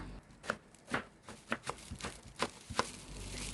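A knife chops purple yam into strips on a board, a handful of crisp cuts at an uneven pace, close by with a faint background hiss.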